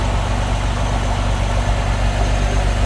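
A 2006 Porsche 911 Carrera S 3.8-liter engine idles steadily up close, a smooth low rumble with an even rhythmic throb and no talking.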